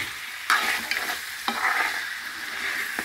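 Radish chicken curry sizzles in a pan while being stirred, with sharp scraping stirs about every second over a steady frying hiss, close and alone.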